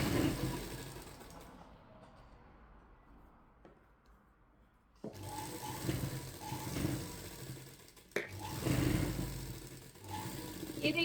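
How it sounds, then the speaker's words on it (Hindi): A sewing machine stitches a katori blouse, running in steady mechanical bursts after a quieter pause, with a sharp knock partway through and a continuous close whirring hum. "अब हम इसके ऊपर सिलाई कर लेंगे।"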